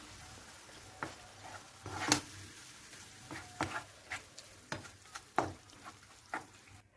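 Minced meat filling with dill and parsley being stirred, with scattered soft scraping and clicking strokes at an uneven rhythm, fairly quiet and close, no voices.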